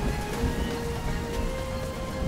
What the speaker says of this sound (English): It's November, and the short rains start